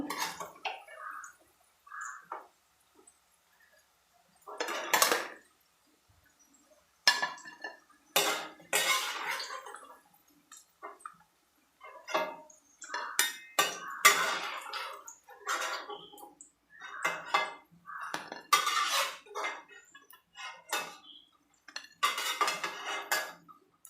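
Steel plates and utensils clink and clatter in sharp, irregular bursts as fried eggplant and potato pieces are lifted onto a plate in a home kitchen, close and crisp with quiet pauses between.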